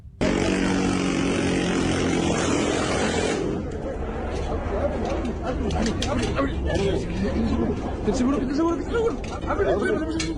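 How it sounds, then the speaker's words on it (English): A helicopter roars overhead, its loud rotor and engine drone dominant at first, then continuing beneath overlapping voices and scattered bangs. "a helicopter roars through the sky with a heavy machine gun"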